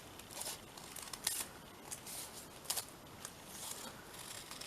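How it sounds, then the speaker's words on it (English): Scissors snipping paper in a wavy line around a paperclip, a handful of soft, quick cuts with light crinkling, close and quiet. "just do a wibbly wobbly little cut around it"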